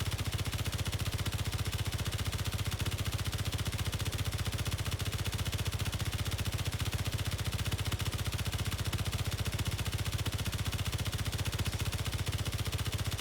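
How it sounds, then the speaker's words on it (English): Continuous rapid machine-gun fire from Space Engineers rattles without a break for over thirteen seconds, a dense, even stream of shots at steady loudness. "Let's lay down some cover fire"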